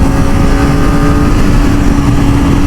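Kawasaki Ninja ZX-4R SE 400cc motorcycle cruising on a highway, its engine droning loud and steady with a constant hum throughout, no voices.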